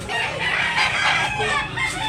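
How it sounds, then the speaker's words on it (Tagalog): At a Cebu poultry market in Tabunok, Talisay, a rooster crows in a long strained call, fairly close and loud over busy market background noise. "Ang manok."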